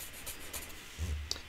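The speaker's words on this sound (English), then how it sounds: "So I'm going to write my name" A name written on paper with a pencil for a flower art project, giving soft brief rubbing strokes, close and quiet, with one small tap near the end.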